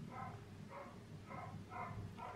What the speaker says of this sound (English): Sorry if you can hear next door's dog barking.